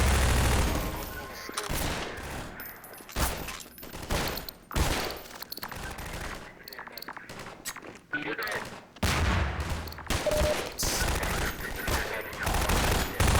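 Gunfire in the Half-Life 2 video game rings out as repeated close bursts of automatic shots and single loud cracks, irregular in rhythm, with a voice talking at times between them.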